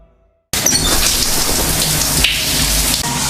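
Heavy rain in a scene from the Indonesian horror film Qodrat 2 bursts in after a brief silence and pours as a loud, dense, steady roar until the end.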